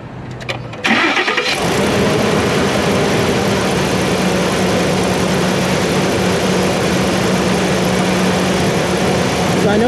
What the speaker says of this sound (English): So I'm gonna go ahead and start it up, so it's gonna get pretty loud.